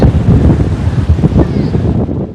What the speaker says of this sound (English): you still enjoy this ocean breeze